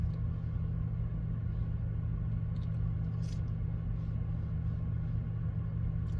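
Steady low engine and road rumble inside a car during a first driving lesson, continuous and even throughout, with no talking.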